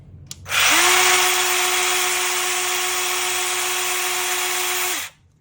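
A Pumpkin 50298 cordless brushless 8-inch chainsaw on a 20-volt 2-amp battery whirs up to speed and holds a steady high electric whine for about four seconds before spinning down, close and loud.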